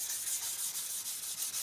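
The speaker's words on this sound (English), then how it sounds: "And again, I'm using a 400 sandpaper." Close, steady back-and-forth rubbing of 400 grit sandpaper on wooden gun grips, a soft hissing scrape repeating in quick even strokes.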